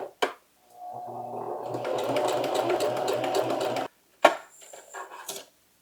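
A domestic sewing machine running a reverse stitch, whirring steadily for about three seconds after a short click, then stopping, followed by a couple of brief mechanical clatters.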